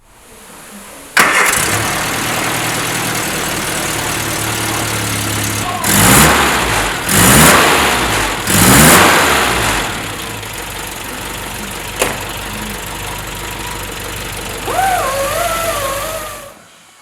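A Mini 1275GTS engine starts with a sharp catch, then idles steadily while warming up, with a few surging revs partway through and a faint whine near the end.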